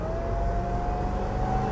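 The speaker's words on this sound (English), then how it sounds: "Supercharger makes a nice whine." A pickup truck's supercharger in Jay Leno's garage gives off a thin, steady whine over a low engine rumble, sustained and fairly close.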